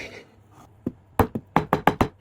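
A series of sharp, hollow knocks on a coconut shell, a couple of isolated taps and then a quick run of five or six strikes close up, with no talking.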